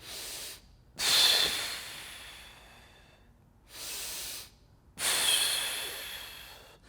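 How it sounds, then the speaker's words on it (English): Deep diaphragmatic breaths taken while seated, several loud, close inhales and exhales with a hissing, snorting quality and short quiet gaps between them, no speech. "and I'll breathe in"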